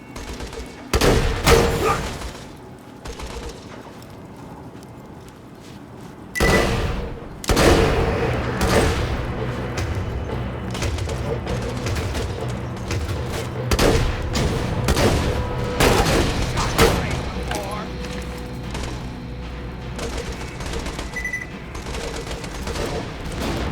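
Automated turrets blast away in Borderlands 2, the gunfire coming in loud, dense bursts and booming volleys that overlap almost nonstop, with sharp cracks standing out above a steady din of game noise.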